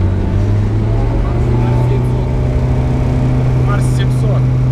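A steady low engine roar drones throughout, loud and constant, from a Mars 700 hovercraft running, with its fan working and faint voices underneath.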